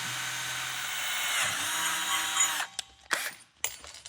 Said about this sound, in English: I'm gonna start with a smaller drill bit.